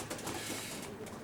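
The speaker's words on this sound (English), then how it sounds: "We're in Jim's young bird loft now" Racing pigeons in a young bird loft, their soft cooing mixed into a dense, continuous rustling background that stays at a moderate level throughout.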